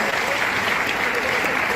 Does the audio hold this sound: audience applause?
yes